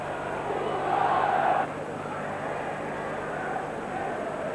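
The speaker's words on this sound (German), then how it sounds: "Zugabe forderte das Publikum verständlich." A large football crowd in a stadium during a 1980/81 2. Bundesliga Nord match roars and chants, a broad distant swell that peaks briefly then settles into steady murmur.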